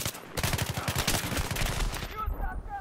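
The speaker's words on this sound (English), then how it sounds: "A light machine gun, I think that is." Light machine gun fire in Battlefield 3 on the Noshahr Canals map: loud, rapid bursts of automatic shots in a steady stuttering rhythm, close by, that trail off near the end.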